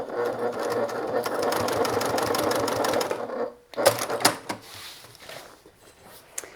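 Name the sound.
sewing machine basting a bag seam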